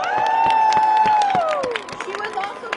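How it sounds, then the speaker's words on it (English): Applause and cheering from an outdoor rally crowd in Washington protesting the Russian attack on Ukraine, steady dense clapping with a loud sustained whistle-like tone that slides downward and fades partway through. "Please give her a round of applause."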